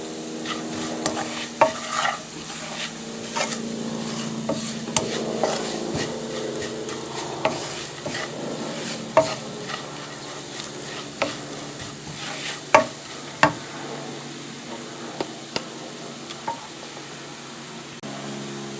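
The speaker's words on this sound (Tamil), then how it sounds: "போட்டுட்டு நல்லா பச்சை இந்த தூளுண்ட மணம் போகிறதுக்காண்டி கொஞ்சம் வதக்குவோம்." Curry spice powder sautéed in a pan for curry roti, a constant close sizzle with rhythmic spoon scrapes and occasional sharp knocks against the pan, no voices.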